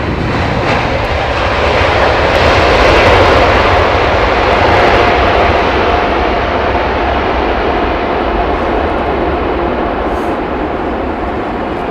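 Loud, steady roar of an Emirates airliner's jet engines in new livery, a broad continuous rumble that swells slightly midway and holds near and strong throughout, with no talk.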